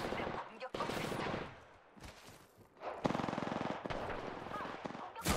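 Rapid automatic gunfire from the Apex Legends video game comes in loud, dense bursts separated by short gaps, close and harsh.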